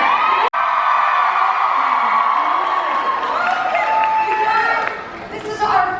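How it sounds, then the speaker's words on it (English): A live podcast audience in Boston cheers and whoops loudly, a sustained roar of voices with shrill yells rising above it, dipping briefly near the end before swelling again. "should we have the Boston crowd give a big hello to everyone out there who's going to be listening?"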